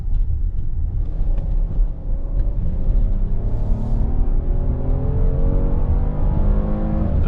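A 2022 Kia Carnival minivan accelerating in manual mode, its engine rumbling and rising steadily in pitch without holding a gear, a continuous moderate drone heard from inside.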